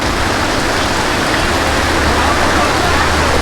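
Rain pours down on a fish market in Dhaka, a steady, dense hiss that fills the whole scene with no breaks, close and fairly loud.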